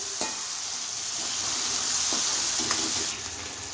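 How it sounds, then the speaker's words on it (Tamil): Onions with a pinch of asafoetida sauté in a pan, a dense close sizzle with a few light stirring scrapes, easing slightly toward the end, no speech. "கொஞ்சம் வதங்கட்டும் கொஞ்சமாக வதங்கட்டும்"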